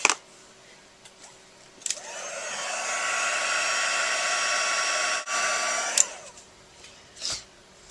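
A handheld heat tool blows hot air to heat set a card, a loud steady whirring hum that starts near two seconds, holds about four seconds with a brief dip, then shuts off, framed by small handling clicks.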